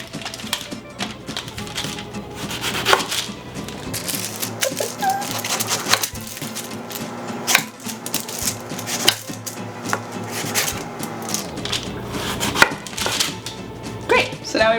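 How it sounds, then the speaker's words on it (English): Knife slicing fresh jackfruit into quarters on a board: repeated sharp chops and heavy cuts, some in quick runs, with clattering kitchen handling sounds and occasional faint voices in the background. "So the way that I like to do this is I slice it into quarters"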